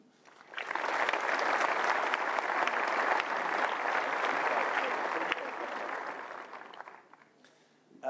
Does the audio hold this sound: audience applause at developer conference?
yes